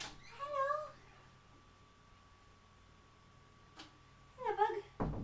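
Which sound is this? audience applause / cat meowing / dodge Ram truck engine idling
cat meowing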